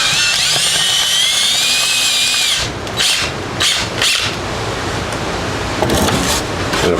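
A spade drill bit on a power drill bores into wood to make a countersunk hole, giving a loud, close high whine that gives way to lower chattering bursts of cutting as the bit bites in.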